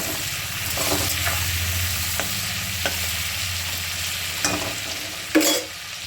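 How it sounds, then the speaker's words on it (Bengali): Prawns fry in oil in a home kitchen pan with a steady close sizzle all the way through, broken by occasional soft scrapes and stirring taps and one louder clink near the end; nobody speaks. "এখানে আমি মাছটা ভাজা করছি চিংড়ি মাছ"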